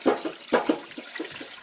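Water runs into a pot holding a whole raw chicken and its neck, filling it toward the top in a series of splashing, gurgling bursts that are close and moderately loud, with no talking.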